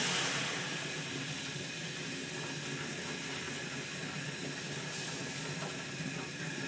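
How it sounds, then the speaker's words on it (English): A steady, broad hiss of steam from boiling kettle water poured into a hot roasting tin in an oven runs throughout at an even level, loud and close with no speech. "That'll create a nice bit of steam."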